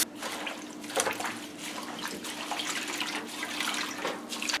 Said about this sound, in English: Let that bowl fill up